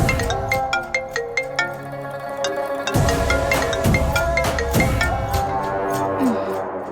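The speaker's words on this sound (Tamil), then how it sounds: "யார் இந்த நேரத்துல ஃபோன் பண்றது?" A phone ringtone plays a bright, repeating electronic melody in a late-night domestic scene, ringing steadily and clearly over soft background music.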